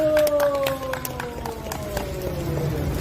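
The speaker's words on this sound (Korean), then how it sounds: "박수! 박수!" Crowd at a street rally near the Seoul city council building clapping and cheering in a steady patter, with sustained tones and voices mixed in, moderately loud throughout.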